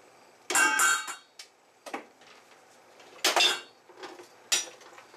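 Strained bacon tipped from a container into a pot for potato soup, giving several clattering bursts of utensil and dish contact close by, two louder scraping clunks followed by lighter taps.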